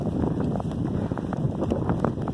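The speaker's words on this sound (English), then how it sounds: "the snow is coming down hard and the wind is blowing" November blizzard wind in Elgin, North Dakota, a loud constant low roar buffeting the microphone with no break, heavy snow falling, no voices.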